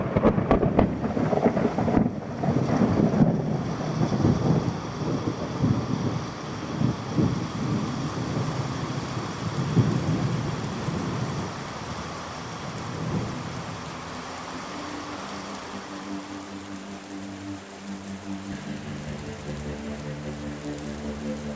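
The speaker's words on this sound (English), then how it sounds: "And it begins to rain once again." Rain pouring with rumbling thunder in an audio drama, a heavy dense downpour and deep thunder at first that gradually softens to a lighter, steadier rainfall.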